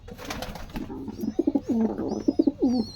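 Pigeons coo in a series of soft, rounded, pulsing calls close by, repeating in short bursts over a background of higher chirps and faint rustling.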